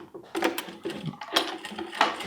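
A sewing machine stitches fabric and then runs a reverse stitch, giving short bursts of rapid mechanical chatter separated by brief pauses, close and clear.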